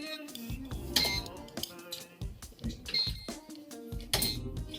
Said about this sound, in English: And we're just gonna throw it in the air fryer.